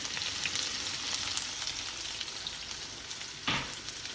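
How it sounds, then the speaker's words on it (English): Diced white onions frying in a pan over high heat for shakshuka, a dense continuous sizzle like light rain, close and steady, with one brief sharper burst near the end. "Now I'm going to add my onions, white onions, diced."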